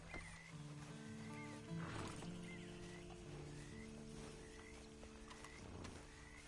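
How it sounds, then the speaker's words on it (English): In a PS4 video game, a horse gives drawn-out neighs and whinnies over soft clip-clopping hooves, heard quietly against a low droning background. "And you better get on this horse."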